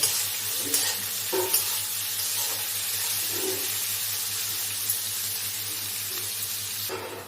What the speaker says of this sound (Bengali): ক্যাপসিকাম গাজর দিয়ে আমি এটাকে ভেজে নেব।